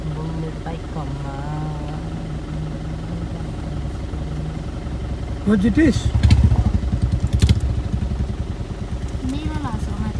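A Royal Enfield Bullet motorcycle idles with a low, steady thump, swelling into a louder, throatier revving burst partway through, in a village setting, with people talking over it.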